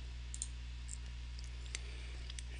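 A computer mouse clicks several times, small sharp taps spaced irregularly against a steady low electrical hum, quiet and close with no voices.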